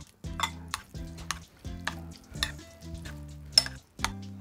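Fish being stirred into a marinade of soy sauce, olive oil and mustard in a bowl, heard as a repeated rhythmic clinking of a utensil against the dish, about eight strokes with wet sloshing between them.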